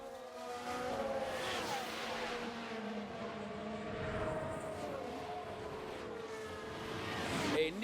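Formula 1 race cars overtaking in the F1 Manager 2024 video game, a steady layered whine of high-revving engines that swells near the end, with a voice talking over it.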